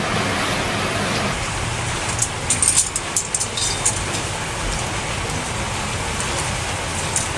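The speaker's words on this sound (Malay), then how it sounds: "Hujan tengah turun." Steady rain falls with a constant hiss, a few louder patters and drips standing out briefly midway.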